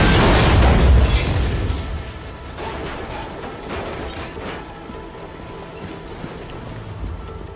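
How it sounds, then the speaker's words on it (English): A grappling hook charge pulse in the video game Just Cause 4 blasts objects apart: a loud opening boom and burst that fades into a lingering rumble with scattered smaller impacts. "we have a powerful charge pulse that blasts objects apart when they meet"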